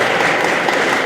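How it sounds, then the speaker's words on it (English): Applause from guests at an indoor reception honouring Lodi Gyari, a dense and loud burst of many people clapping together. "Round of applause for Lodi."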